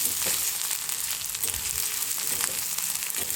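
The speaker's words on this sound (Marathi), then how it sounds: "कांदा चांगला भाजला की ह्याच्यामध्ये आपल्याला भाजी टाकायची" Green chickpeas go into a pan of well-browned frying onions, giving a steady, close hiss of sizzling oil with small crackles and no talking.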